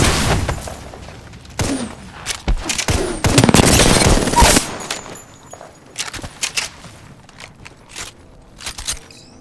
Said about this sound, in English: Throwing through my grenade.